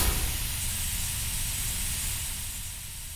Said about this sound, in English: And then I've added this loop that is an infinite loop of the air in the pipe.